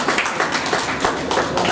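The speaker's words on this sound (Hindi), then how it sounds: "आप भी एक बार जोरदार तालियों से स्वागत कर दीजिएगा।" An audience at a poetry gathering in Faridabad, Haryana, claps in steady, dense applause to welcome a guest. The clapping is loud and close and carries on without a break.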